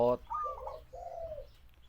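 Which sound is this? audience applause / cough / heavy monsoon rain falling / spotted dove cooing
spotted dove cooing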